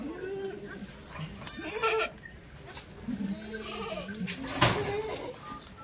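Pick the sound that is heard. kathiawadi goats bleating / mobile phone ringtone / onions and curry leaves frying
kathiawadi goats bleating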